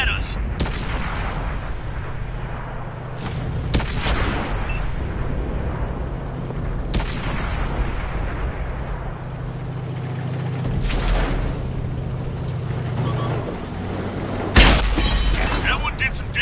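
Heavy tank cannon shots boom out in World of Tanks gameplay, several loud blasts spread across a steady rumbling engine and battle backdrop, with brief voice lines in between.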